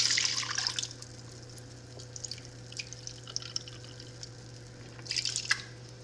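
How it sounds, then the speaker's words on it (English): Apple cider vinegar splashes and trickles into a measuring cup for pepper jelly, an uneven liquid pour with a louder start and a second surge near the end over a low steady hum. "I'm going to do 1 1/4 cup of apple cider vinegar."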